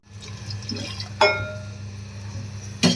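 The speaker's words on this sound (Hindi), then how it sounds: "तो पानी डाल के और थोड़ा सा पानी डाल देंगे" Water poured into cooked masala in a pressure cooker in a home kitchen, a soft trickling splash under a steady low hum, punctuated by two sharp metallic clinks of utensils against the pot.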